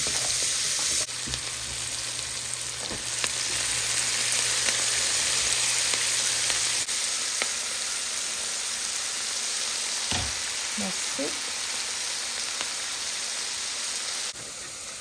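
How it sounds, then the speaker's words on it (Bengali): Shredded cabbage frying with rohu fish in a pan, a dense continuous sizzle close by, with a brief scrape of stirring and a few soft knocks partway through. "আমি এই বাঁধাকপির ভাজিটা করব রুই মাছ দিয়ে"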